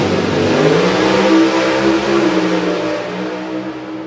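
Drag race cars, a 1951 Chevy and a Camaro, rev loudly and steadily at the strip, with a sustained engine roar and a pitch that rises and falls before easing off slightly at the end.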